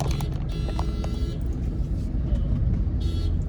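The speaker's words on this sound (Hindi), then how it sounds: "पीछे हॉर्न मार रहे हैं जबकि लाइट ग्रीन हो ही नहीं है।" City traffic waits at a signal in Jaipur, with a low steady rumble of engines and several short car horn toots breaking through near and far.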